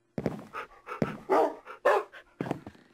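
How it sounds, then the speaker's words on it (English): Puppies in a Minecraft-style survival game pant and let out short barks and whimpers in several quick bursts, close and fairly loud with brief pauses between. "Oh, there's puppies already."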